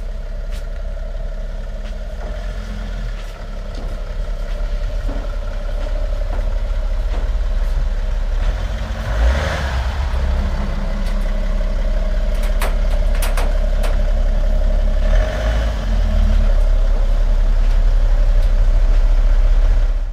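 A BMW 335d E92 diesel with a stainless M Performance 76mm full-tube exhaust rumbles loud and close, its deep drone swelling with revs around the middle and again later, building to a heavier roar toward the end.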